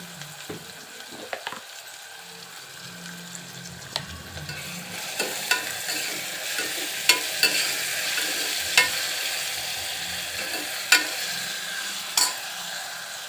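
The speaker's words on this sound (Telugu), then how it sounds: "ఇది హై ఫ్లేమ్లో పెట్టుకొని దగ్గర ఉండి ఫ్రై చేసుకోండి. ఫాస్ట్గా ఫ్రై అవుతాయి అన్నమాట." Onions for mutton biryani fry on high flame with a strong, steady sizzle, and regular sharp clacks of a spoon against the pan recur throughout.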